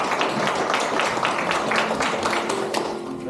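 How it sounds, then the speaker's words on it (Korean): A crowd claps at a 2022 Gwangju government complex management office award ceremony, giving dense, even applause that carries on through the whole moment with no pause. "자, 마지막으로 박수 한번 더 쳐주시고요."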